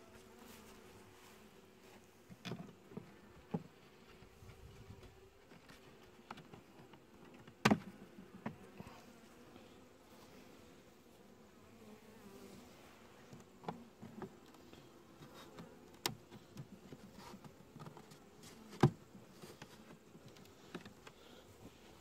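Honey bees buzz around open hive frames, a low, steady drone with occasional louder passes and clicks of frames being handled nearby.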